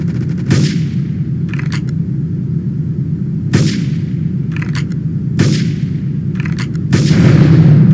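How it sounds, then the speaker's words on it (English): Repeated booming gunshots and explosions in GTA 3: Definitive Edition ring out over a constant low rumble, several sharp cracks spaced a second or two apart, loud and close. "investigate reports of gunfire and explosions"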